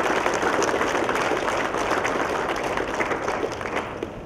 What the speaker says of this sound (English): let's give each other just a round of applause